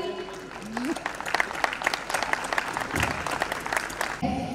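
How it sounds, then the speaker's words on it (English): Audience at an award ceremony applauding, a steady wash of clapping from a crowd throughout, with brief voices at the start and end. "A huge round of applause,"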